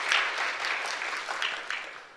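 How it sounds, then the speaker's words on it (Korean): A church congregation applauding to congratulate a deacon couple on opening a new business, a steady wash of clapping over about two seconds that slowly fades, with faint voices mixed in. "박수로 한번 축하하겠습니다."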